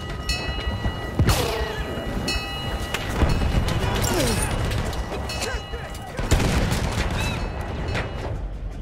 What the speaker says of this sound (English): Wait for the enemy artillery to stop the firing.